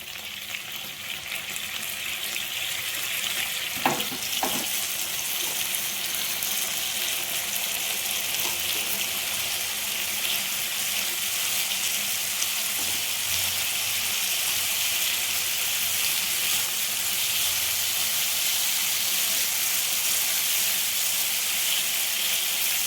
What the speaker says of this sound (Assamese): এইখিনি অকণমান সময় ভজাৰ পিছত মই ইয়াতে অকণমান পানী দিম।